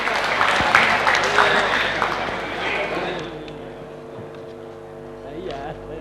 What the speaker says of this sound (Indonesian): kita beri tepuk tangan yang meriah untuk SMA Negeri Bogor